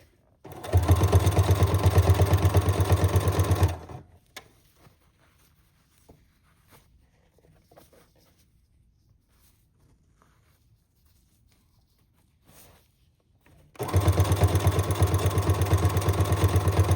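A sewing machine stitches straight seams on fabric in two loud, steady, fast-rattling bursts, separated by a long near-silent pause with faint handling sounds.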